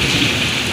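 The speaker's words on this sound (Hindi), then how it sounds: "बादल गरज रहे हैं बड़े ज़बरदस्त" Heavy rain pours in Karachi during a thunderstorm, a loud dense wash of noise with a low rumble underneath, steady and close throughout.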